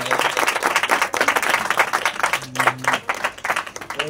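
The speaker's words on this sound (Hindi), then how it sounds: "जोरदार तालियां खुदावंद के जलाल के लिए हम बजाएंगे।" A church congregation claps loudly in praise during a Hindi-Urdu service, fast rhythmic group clapping with shouts and a brief sustained tone from music or voices in the middle.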